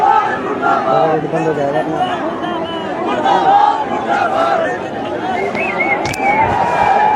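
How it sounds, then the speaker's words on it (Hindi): Large crowd of unemployed youths at a rally, dense chattering and shouting babble throughout, loud and close with overlapping voices. "स्टेज के बाहर भी आप देखिए कितनी सारी यहाँ पर भीड़ नज़र आ रही है"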